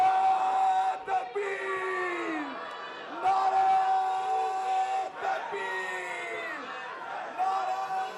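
A large outdoor crowd greets a religious leader's appearance on residential streets with cheers, whoops and shouted chants, rising in repeated loud waves with a ringing tone audible beneath.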